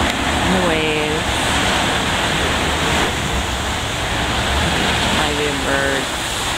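Ocean waves wash steadily under the pier at Monterey Bay, a constant broad hiss with two brief tonal calls rising above it.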